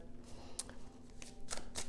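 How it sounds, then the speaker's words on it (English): Tarot cards are shuffled close and softly, several quick papery riffles and flicks over a low steady hum. "So we'll continue to shuffle and see if any more want to come out."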